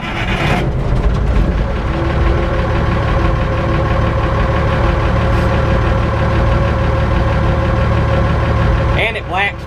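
A truck engine idles steadily while warming up after a new fuel pump was fitted, a loud, close rumble with a knocking rhythm that runs almost the whole time and cuts near the end.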